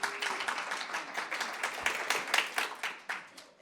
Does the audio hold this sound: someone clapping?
yes